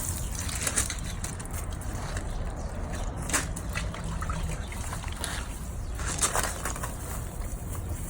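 Water trickling and splashing over a western saddle as it is rinsed, an uneven running dribble with occasional louder bursts, steady throughout.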